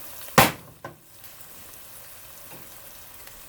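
Chili ingredients frying in a pot over medium-high heat: a sharp sizzling burst as food meets the hot pan, a second smaller hiss, then a low steady frying hiss, close and quiet.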